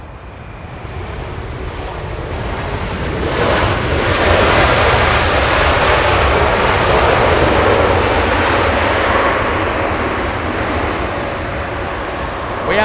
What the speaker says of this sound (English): We have a big Dreamliner taking off in the south.